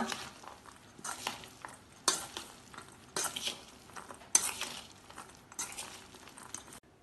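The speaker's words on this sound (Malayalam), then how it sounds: "ഇനി എല്ലാം കൂടി ഇളക്കി മിക്സ് ചെയ്യാം." Moong sprout salad being stirred together in a bowl, giving a run of close, bright scraping and clinking strokes in repeated bursts, with no talking.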